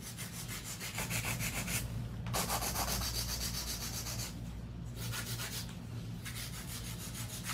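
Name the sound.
hand filer filing acrylic nails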